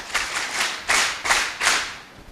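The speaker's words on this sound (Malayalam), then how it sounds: "ഈ അമ്മയ്ക്ക് നല്ലൊരു കൈയടി" An audience at a stage event claps together in a few loud, rhythmic bursts about every third of a second, like a round of applause for an honoured guest, with no voices over it.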